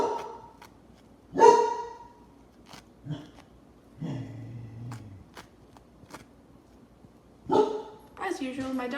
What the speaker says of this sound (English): my dog barks at any strangers in the street that he doesn't know